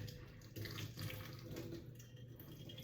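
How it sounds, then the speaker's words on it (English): Tap water runs steadily into a kitchen sink, a continuous splashing hiss close by with no voices over it. "How is the water spilling all out the sink?"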